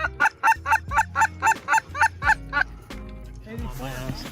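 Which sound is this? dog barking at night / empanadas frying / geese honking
geese honking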